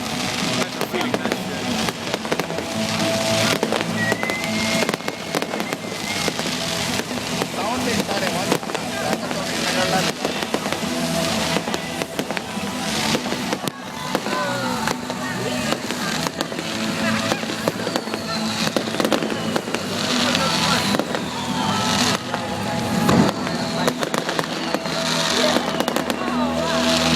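Christmas fireworks display at the Oracle in Reading, with bursts and crackles popping steadily over a continuous outdoor crowd murmur, some loud near bangs and distant rumbling echoes, and people talking throughout.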